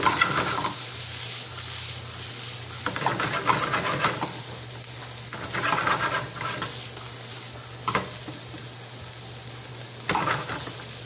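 Salted Atlantic tiger shrimp sautéing in a hot pan with garlic, steady sizzle and hiss under repeated stirring and scraping, with a low constant hum behind and brief louder bursts as the shrimp are tossed.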